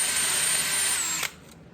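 A power drill bores through old, hard metal with a worn bit, a loud, steady whining grind that stops abruptly just after a second and leaves near silence.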